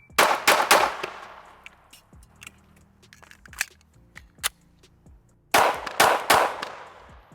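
Pistol shots fired at a target with a compensated carry handgun, a sharp cluster of four loud reports at the start, scattered fainter shots from others nearby, then another rapid string of four close, ringing cracks.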